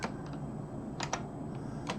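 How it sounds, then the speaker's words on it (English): A mechanical computer keyboard is typed on in a few sparse, light clicks over a steady background hum, fairly faint with no talk. "I have this mechanical keyboard and that people complain about it all the time"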